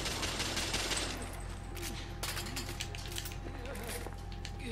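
In The Order: 1886, rapid gunshots crackle in a fusillade over a steady low rumble, with a voice speaking amid the clatter of shots.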